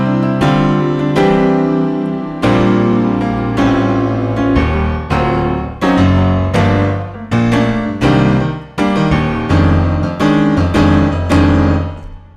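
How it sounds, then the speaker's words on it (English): A digital piano plays a full, resonant passage of chords and bass notes, struck in rhythmic bursts that swell and decay, loud and close with no talking. "Do you want a piano that sounds like this?"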